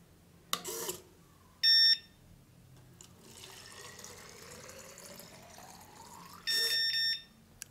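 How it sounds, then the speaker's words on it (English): An Arduino-controlled automatic bottle filling machine beeps, then pours liquid into a 200 ml bottle with a soft rising trickle, ending in a second run of electronic beeps. "So now I will show you that how we can fill up these three sizes of bottles using three modes of our machine"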